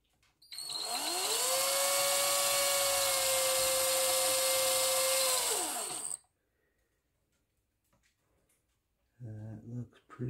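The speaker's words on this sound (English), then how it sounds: "let's put a couple pilot holes in here" A power drill whines up and holds a steady high pitch for about five seconds while boring pilot holes into an Explorer guitar kit body, loud and close, then stops; a voice speaks briefly afterward.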